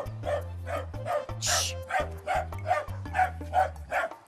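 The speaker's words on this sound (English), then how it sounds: "Just hold your dog back." A dog at a house in Beregovo, western Ukraine, barks repeatedly in a steady series of sharp, close woofs, about two per second, with no talk over it.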